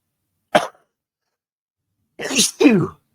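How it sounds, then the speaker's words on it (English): A person sneezes outdoors during a talk on soil, wood chips and worms: one short burst, a pause, then two quick sneezes in a row, loud and close. "Oh, achoo, achoo."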